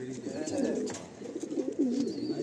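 Small Madrasi tournament pigeons coo close by in soft, rolling, throaty phrases that repeat back to back at a moderate level.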